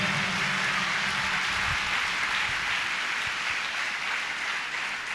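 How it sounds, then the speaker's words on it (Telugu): Congregation clapping loudly during a Sunday church service at Hosanna Ministries, Gorantla: sustained dense applause from many hands, fairly loud and continuous throughout, with no speech over it. "చప్పట్లు కొడదాం అందరూ గట్టిగా."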